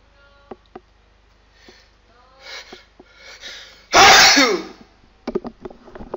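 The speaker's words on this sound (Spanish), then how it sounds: "perdón, voy a estornudar" A single loud, sudden sneeze bursts out alone during a quiet classroom lecture on network diagrams, preceded by soft breaths and small mouth noises and followed by faint clicks.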